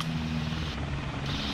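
Helicopters in a video game make a loud, steady rotor and engine drone with a low throbbing hum, filling the short stretch without any voices.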